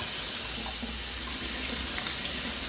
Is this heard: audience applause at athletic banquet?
no